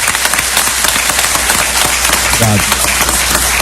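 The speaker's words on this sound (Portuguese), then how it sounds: "Eu peço uma salva de palmas para o Celso Rigo também." A dense, loud wash of applause for Celso Rigo, steady throughout, with someone briefly speaking a word of thanks over it.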